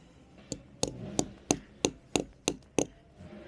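A hammer drives a tag into a tree with eight sharp, woody knocks in a steady rhythm that grows firmer after the first light tap, close and fairly quiet outdoors.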